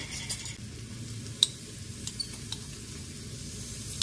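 Garlic sizzles steadily in a pan for a keto chicken tikka masala, a low, even hiss with a few faint clicks of utensils.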